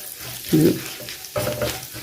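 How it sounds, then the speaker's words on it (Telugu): Urad dal and curry leaves sizzling in hot oil for a traditional pumpkin (gummadikaya) tempering, with two short bursts of crackling and stirring over a quiet background. "కొంచెం కరివేపాకు వేసుకోవాలి. వేసుకొని ఇది వేయించుకోవాలి. మినపప్పు కొంచెం ఎర్రగా అవ్వాలి."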